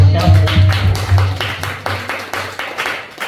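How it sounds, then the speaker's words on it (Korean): A church congregation at a revival meeting claps in a steady rhythm, sharp and fairly close, about two to three claps per second over a low hum, with the pulse slowly fading. "할렐루야, 박수 한번 합시다"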